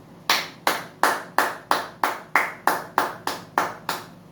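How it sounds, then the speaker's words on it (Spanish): A church congregation claps in slow, evenly spaced unison, about a dozen sharp claps in a steady rhythm, close and clear with no talking. "Aplauso a Dios grande y poderoso."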